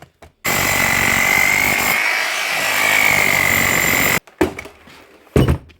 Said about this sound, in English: Test the hammer here now. See if she still works.